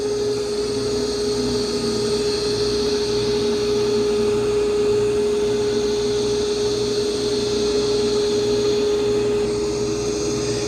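An iRobot Roomba Plus 505 combo robot vacuum and mop runs on carpet with a steady, continuous motor whir and brushing hiss, close and unbroken throughout.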